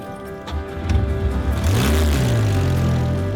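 A classic Facel Vega's engine idles, then revs up with a rising, rumbling growl that swells and holds loud and close over the last couple of seconds.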